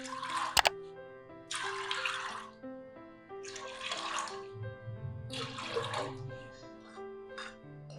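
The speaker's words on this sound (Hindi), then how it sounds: "1 पाव लोबी के लिए इसमें 4 गिलास पानी डालेंगे।" Water is poured in several separate bursts into a pressure cooker holding black-eyed peas, each splash lasting about a second between pauses, fairly faint in a quiet kitchen.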